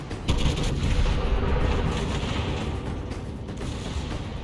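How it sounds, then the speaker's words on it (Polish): Heavy naval gunfire from the American tier VIII battleship Massachusetts in World of Warships, a loud booming salvo followed by dense rumbling blasts that fade slowly, with no talking. "Jest strzał w jego kierunku, jest trafiony."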